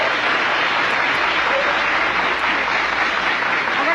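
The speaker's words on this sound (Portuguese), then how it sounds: "Uma salva de palmas aqui, por favor." Dense, continuous applause from a television talk show studio audience, loud and sustained throughout with no breaks.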